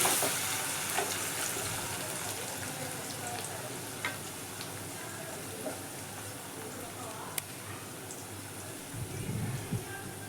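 Cashew chicken masala curry with curry leaves sizzling steadily in a pan, a continuous close frying hiss with occasional faint scrapes of stirring, and a voice talking briefly near the end.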